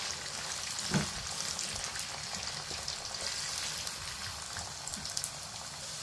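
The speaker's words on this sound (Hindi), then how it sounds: "अब ऑनियन को हम 3 से 4 मिनट के लिए जो है वो फ्राई करेंगे ऑयल के अंदर।" Onions frying in oil for a fish curry, a steady soft crackling sizzle with scattered pops running throughout at a moderate, even level, without any voices.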